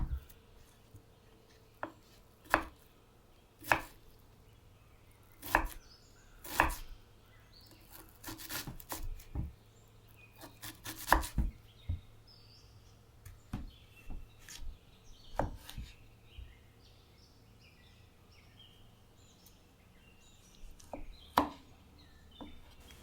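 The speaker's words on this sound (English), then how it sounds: "test the knife in the kitchen while preparing food" Morakniv Amberg S knife with a Scandinavian grind chopping food such as apples, onions or tomatoes on a kitchen cutting board: irregular sharp close knocks and cuts, some in quick bursts, with soft rubbing between strokes and no talk.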